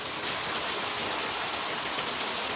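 Heavy seasonal rain falls in an unbroken, fairly close wash of bright hiss, uniform from start to finish, with no voices.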